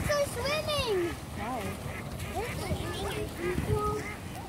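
Ducks or geese quack and honk close by in repeated, overlapping calls, with people talking and a voice mixed in beneath them.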